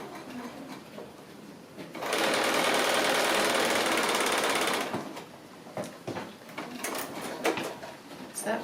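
Sewing machine stitching 2.5-inch patchwork strips for a braid or chevron, a steady close mechanical whirr of about three seconds between quieter handling clatter.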